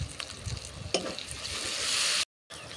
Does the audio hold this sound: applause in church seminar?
no